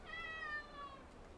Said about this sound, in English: Just had to let my cat inside.